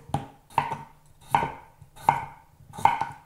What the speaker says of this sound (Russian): Картофель нарезаю на небольшие кусочки,